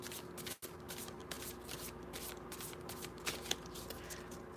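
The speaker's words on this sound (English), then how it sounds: "Let me go start shuffling for Kristen." Tarot cards being shuffled by hand in steady, close riffling bursts with a brief pause near the start, alone without talk.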